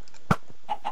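Minecraft chicken clucking in short bursts: one sharp, louder cluck followed by two softer clucks near the end, with no talking.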